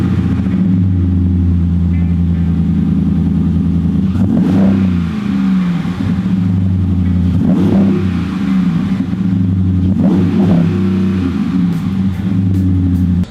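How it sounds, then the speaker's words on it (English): A 2017 Ram Rebel pickup truck with an upgraded air intake and exhaust idles with a deep, steady rumble, then revs up three times in evenly spaced bursts through a throaty exhaust, loud and close. "you get an air intake Yeah. and an exhaust system update. So it will sound a little bit louder."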